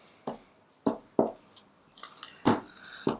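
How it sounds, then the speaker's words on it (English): Several sharp, separate slaps and riffles of tarot cards being shuffled, close and irregular, with brief quiet gaps between them. "One more shuffle."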